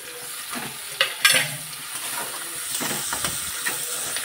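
Curry leaves and chopped tomato hit hot oil for rava upma, a close hissing sizzle with a loud burst of spattering early on, then steady frying and light stirring scrapes, no voices.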